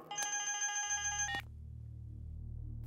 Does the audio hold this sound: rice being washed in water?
no